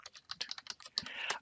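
Rapid typing on a computer keyboard, close and fairly quiet, with irregular clicks that bunch into a denser burst near the end.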